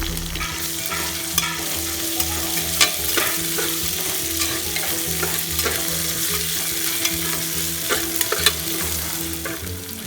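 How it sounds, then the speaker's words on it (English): Sliced onion and ginger paste sauté in oil in a pressure cooker, giving a loud, continuous sizzle with frequent scraping stirs of the spoon and no voices. "After sauteing onion, added ginger paste."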